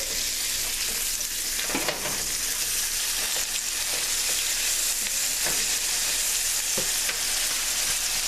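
Basil pesto chicken burger patties sizzling in a pan, a loud continuous frying hiss with occasional crackles and spatters, close and unbroken.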